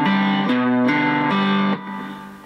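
Distorted three-string cigar box guitar plays a short riff with the note kept on the beat, a few strummed chords then a ringing fade, close and alone.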